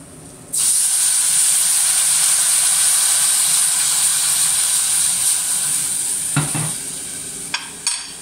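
Red wine hits toasted flour in a hot pan with a sudden loud steam hiss that holds steady and strong for several seconds, then eases slightly with a few brief clinks near the end.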